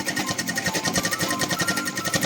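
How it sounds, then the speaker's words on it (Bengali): A sewing machine stitches a pleated petticoat up close, a fast, even rhythmic whirring patter of needle strokes that runs continuously and alone. "এখানে আর একটা সেলাই দিয়ে দিতে হবে"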